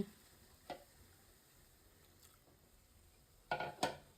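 Food fries quietly in a pan for a dried-fish bharta, a faint sizzle broken by a few sharp stirring scrapes, one early and two close together near the end.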